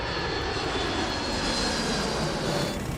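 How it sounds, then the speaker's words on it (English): Airliner engines at full power during a low, stalling approach of American International Airways 808, a steady loud broadband roar with a faint whine held without a break, no voices. "everybody put their hands on the throttles and pushed the throttles up to full blast"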